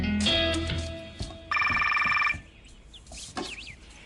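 A telephone bell rings in short bursts, loud and close, with clear repeating rings filling the first half before fading into quieter room sound.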